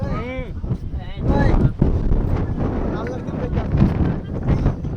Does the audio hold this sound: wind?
yes